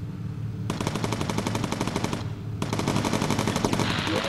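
Lancaster bomber machine guns firing in the game Bomber Crew: two long, loud sustained bursts of rapid automatic fire separated by a brief pause, with no talking.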